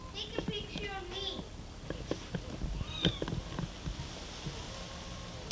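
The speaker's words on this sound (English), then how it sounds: "Brooke, we're supposed to be taking pictures of the cat." A cat meows several times, short rising cries mixed in with children's voices and bustle, the meows fairly close and clear among the talk.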